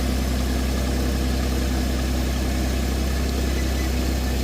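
An engine idles at low RPM on a plow day, a steady, dense low throb with constant vibration running unbroken at close range, with no talk over it.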